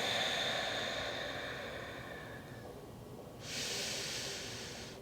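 A yoga student holds a pose and breathes audibly, slow breathy airflow in and out close to the mic, with a brighter, stronger exhale near the end.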